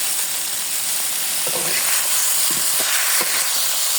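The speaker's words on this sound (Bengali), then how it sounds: "হালকা ভাজা হয়ে গেছে পটল আলু আমার" Pointed gourd and potato pieces, seasoned with salt and turmeric, fry in a pan with a steady, loud sizzle, and a few soft stirring scrapes sound now and then through the continuous hiss.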